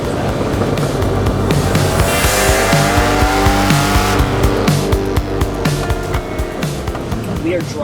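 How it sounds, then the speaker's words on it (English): A 1990 Lamborghini Countach 25th Anniversary sports car drives with a loud, steady engine roar, rising and falling through gear changes with sharp revving bursts, close and continuous for the whole stretch. "We are driving today in a 1990 Countach 25th anniversary"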